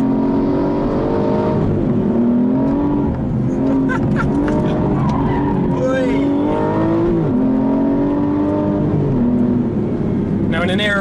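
An Aston Martin V12 Vantage S engine revs and pulls hard through the gears, its tone climbing and dropping repeatedly, heard from inside the car with a voice talking over it.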